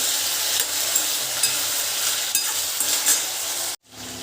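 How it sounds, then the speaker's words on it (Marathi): Cumin, peanuts, potato and eggplant fry in oil with a steady, close sizzle. A few light stirring clinks sound over it before the sizzle cuts off abruptly near the end. "जिरे शेंगदाणे बटाटा वांगी थोडंसं फ्राय करून द्यायचं आपल्याला"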